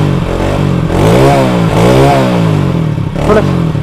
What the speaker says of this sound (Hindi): अरे देखिए दोस्तों पहले ही किक में ये एकदम स्टार्ट हो गई